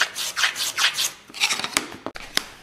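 A hand plane glides over a wooden workpiece in a hobby workshop, giving repeated close, airy swishing strokes in a steady rhythm followed by a few sharper knocks and scrapes.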